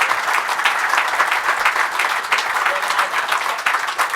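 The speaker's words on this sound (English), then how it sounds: "I'm so unused to being applauded given my life" A conference audience at a session on the state of democracy breaks into steady, dense applause that fills the room without a pause, loud and close for the whole stretch.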